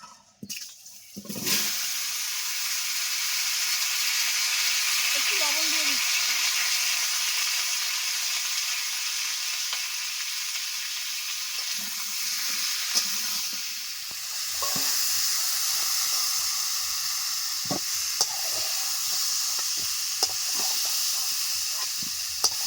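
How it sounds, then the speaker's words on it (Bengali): A sudden burst of loud sizzling as pumpkin pieces hit hot oil left from frying fish, settling into a continuous, close frying hiss with occasional light clatters. "কিছুটা তেল রয়ে গেছে মাছ ভাজার তো এই কুমড়োগুলো হালকা করে ভেজে নেবো"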